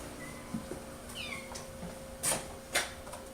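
Kittens and their feral mother in a stainless steel cage in an isolation room give a few thin, high meows, some short and two sharper and louder near the end, over a faint room hum.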